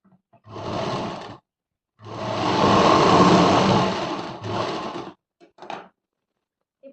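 A sewing machine runs in short and long bursts, stitching the folded hem of Punjabi dress pants, a close whirring rattle separated by silent pauses.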